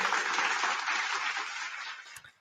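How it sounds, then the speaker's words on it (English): A round of applause, a dense steady patter of many hands clapping close by that holds for about two seconds and then tapers off. "give myself a round of applause and clap you guys for joining me tonight"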